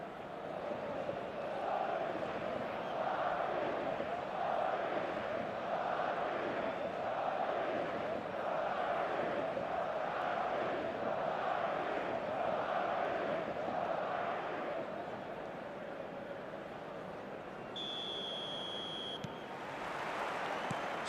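A stadium crowd in the eFootball video game, a steady roaring, chanting mass of fans that carries on for about twenty seconds, with a short electronic beep near the end.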